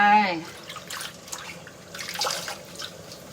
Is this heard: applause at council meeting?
no